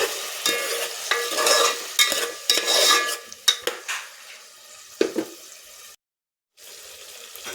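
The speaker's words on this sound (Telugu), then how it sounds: "ఇవన్నీ మనం హాఫ్ బాయిల్ అయిన కనుక ఉడికించుకోవాలండి ఆయిల్లో" Half-boiled vegetables for kichidi sizzle and fry in oil in a pot, with repeated stirring scrapes and light clinks of a spoon against metal, then a brief silence before the frying resumes.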